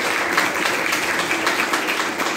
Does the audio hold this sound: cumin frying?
no